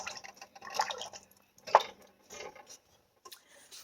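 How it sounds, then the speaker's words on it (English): Water splashes and trickles into a pot in short uneven bursts, close by, with small drips and clinks between pours. "So I might have poured a little bit too much water."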